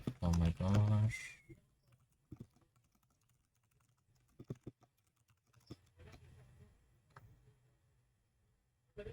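Light clicks of keys on a computer keyboard while someone programs a game, sparse scattered taps at close range following a short burst of speech, with quiet room noise between keystrokes.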